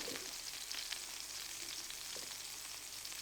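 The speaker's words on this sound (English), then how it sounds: "we're going to saute them to get out all the liquid" Mushrooms sautéing in a pan to cook off their liquid for beef Wellington duxelles, a steady close sizzle and frying hiss with faint stirring, no voices.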